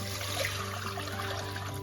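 Coconut milk powder mixed with water poured into a cooking pan over spices and onions for methi pulao, a steady soft trickling wash under a constant low kitchen hum, no speech.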